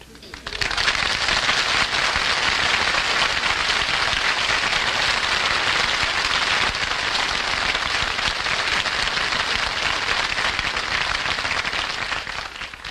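A studio audience bursts into sustained applause for Humphrey Bogart's entrance on a classic TV comedy show, a dense, even roar of clapping that swells in, holds steady for about twelve seconds, then begins to fade.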